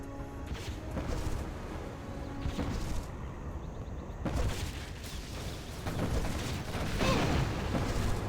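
Carpet bomb explosions in a real-time strategy match, a series of fairly quiet, muffled booms and crashes in sequence against a background of battle noise.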